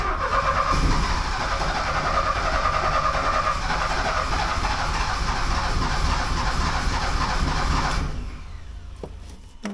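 A 1979 Porsche 924 with fuel system trouble cranks and churns in a loud, steady mechanical drone for about eight seconds before cutting off abruptly, close by with no speech.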